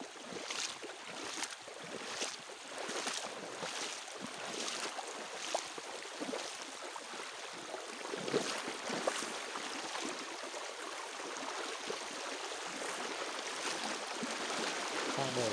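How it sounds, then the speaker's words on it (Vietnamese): Someone wading across a rural river, with repeated splashing and swishing water at a steady pace close by, over a constant rushing wash of the stream. "Mình đang lội qua sông này."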